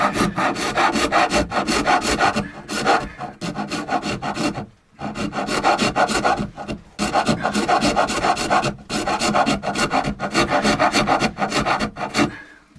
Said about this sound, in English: the clean cut of the Shinto rasp, but it does move a lot more material